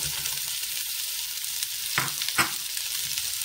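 Onions hit a pan of hot oil with garlic for shepherd's pie and hiss in a bright, continuous sizzle, with two quick stirring knocks midway. Nobody speaks.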